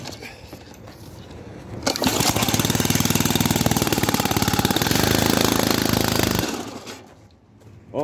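Small gas engine on a hydraulic log splitter being pull-started with choke on, catching and running loudly with a rapid steady chug for several seconds before cutting out.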